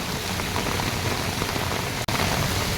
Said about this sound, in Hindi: और बारिश अभी भी रुकने का नाम नहीं ले रही है, अभी बारिश पड़ ही जा रही है।